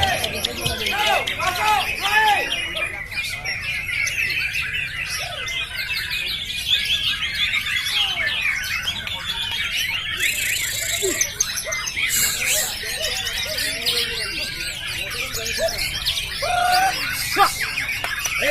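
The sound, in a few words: white-rumped shama (murai batu) singing at bird contest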